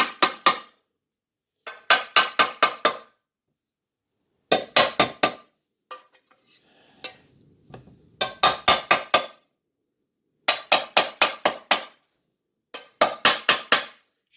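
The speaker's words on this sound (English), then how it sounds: "I take a body hammer that has a flat deal on it, and I just notch them" A flat-faced body hammer strikes metal in quick bursts of four to six sharp, ringing taps, notching it, each burst separated by a short pause, close by.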